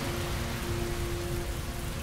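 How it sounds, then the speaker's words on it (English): Steady heavy rain pours in the PS4 game Heavy Rain as a dense, constant hiss, loud and unbroken, with a faint low hum underneath and no voices. "Heavy rain. It's been the same for weeks."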